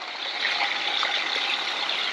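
Water running through a newly installed camper water system during a leak test, a steady even rushing hiss from the tap with no pauses or talk.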